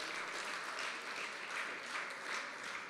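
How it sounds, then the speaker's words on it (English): A church congregation claps for the Lord during a sermon on Jesus and biblical prophecy, a steady, dense roll of many hands filling the room evenly from start to finish. "Can everybody just give the Lord a hand clap?"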